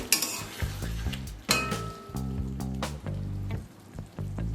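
Spiced pointed gourd curry being stirred in a pan, with repeated clanks and scrapes of a spoon against the metal over a faint sizzle, close and rhythmic, and no talking.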